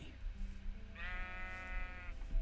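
A single sheep in the Minecraft video game gives a clear, drawn-out bleat of about a second, close and fairly loud over a low background hum.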